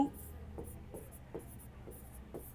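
A pen scratches across a board in about six short, evenly spaced strokes over a couple of seconds, quiet and close.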